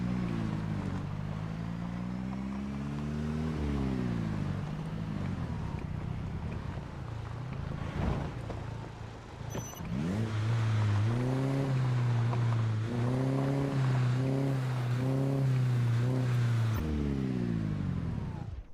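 A rough, raspy car engine with a terrible muffler in Project Zomboid, revving up and down in uneven surges, loud and close, with a brief dip mid-way before climbing into sustained, sputtering acceleration.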